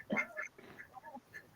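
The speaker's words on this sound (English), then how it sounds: "The ducks are being loud." Ducks quack loudly and close by in a burst of several harsh calls, followed by softer scattered quacks with no one talking.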